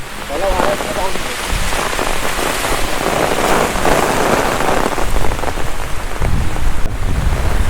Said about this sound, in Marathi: जोरात आला सोसाट्याचा वारा आला सगळ्यात पहिला वारा येतो नंतर पाऊस